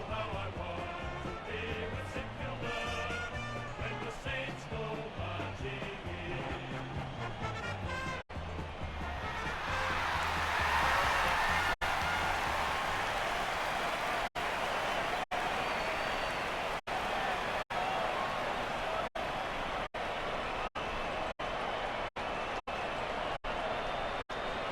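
Crowd cheering and applause in the AFL Evolution 2018 video game, a continuous loud roar that swells after the first few seconds, with a commentator talking and music underneath early on.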